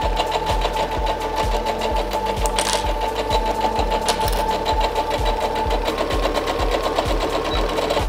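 A sewing machine stitches a dress seam in steady, rapid bursts, stopping and restarting briefly about every half second, loud and close with no talk.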